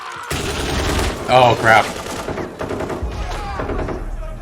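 Explosions and rapid gunfire-like bursts from a Stranger Things season 4 episode ring out at moderate volume, mixed with a brief exclamation from a viewer.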